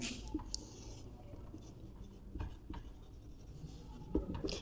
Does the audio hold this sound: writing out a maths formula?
yes